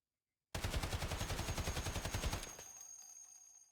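An ASh-12 rifle in the game Escape from Tarkov fires one rapid full-auto burst of about two seconds after brief silence. The shots come fast and evenly spaced, then a ringing echo tails off.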